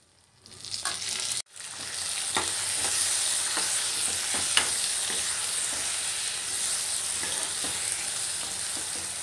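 Ground mango pieces for mango pulihora sizzle in a pan with fried dal and peanuts, a steady bright frying hiss after a brief pause, with occasional scraping stir knocks and no talking.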